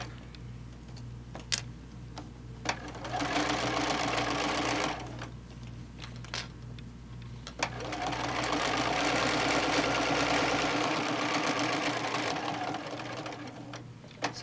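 A sewing machine stitches a fabric bowl cozy in two sustained bursts of fast, even mechanical whirring, close and clear, separated by a brief pause with small clicks as the foot is lifted and the fabric pivoted.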